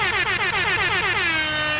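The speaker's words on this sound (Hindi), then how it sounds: "इसका हॉर्न कैसा था?" A Mahindra 415 DI tractor in Farming Simulator 19 sounds its horn in one long, loud, continuous blare with a warbling, harmonic-rich tone that tails off near the end.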